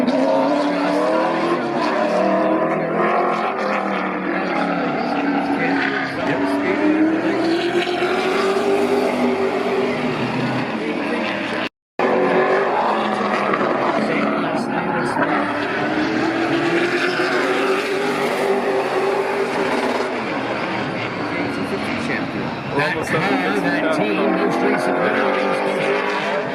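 Race cars roar around the oval at Riverside Speedway during the IWK 250, a loud sustained engine drone rising and falling as cars pass, with a commentator talking over it throughout.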